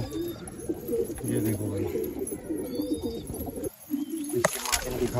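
Madrasi pigeons give soft, repeated cooing close by in an indoor loft, while someone talks over them now and then.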